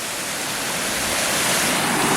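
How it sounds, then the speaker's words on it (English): Dense, steady rush of water over rocks on the ascent of Y Garn in the Ogwen Valley, a loud broadband wash blended with wind, with no voices. "There's water trickling down and the rocks are very slippy"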